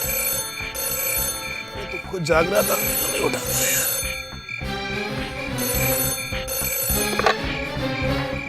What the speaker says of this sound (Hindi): देखिए कहीं फोन तो नहीं बज रहा है।